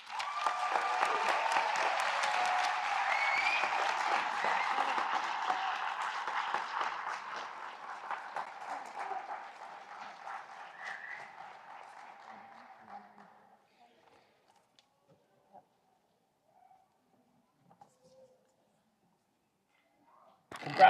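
Audience applause for nursing and allied health graduates at a pinning ceremony, a dense loud clapping that holds steady for several seconds, then thins and fades to near silence with a few scattered claps.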